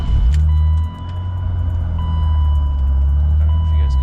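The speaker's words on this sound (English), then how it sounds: "Let me just start up the car while I'm in the garage." BMW E90 sedan engine starting in a garage, a loud low drone settling into a steady idle, with faint electronic beeping tones repeating over it.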